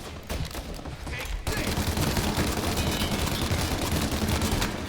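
Loud, dense gunfire from the video game Mafia I, rapid overlapping shots rolling on without pause, starting slightly thinner and then swelling into a continuous barrage.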